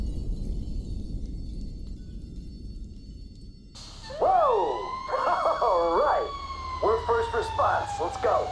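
An emergency vehicle siren wails in GTA 5, starting abruptly after a low rumbling quiet and sweeping up and down loudly and close, while people talk over it.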